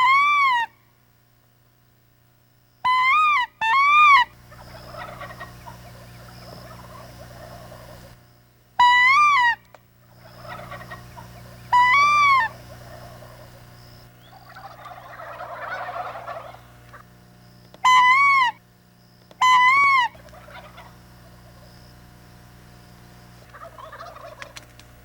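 A tom turkey gobbles loudly in repeated bursts, about six rattling calls separated by pauses, answering a call in open country. Softer hooting sounds come in between the gobbles.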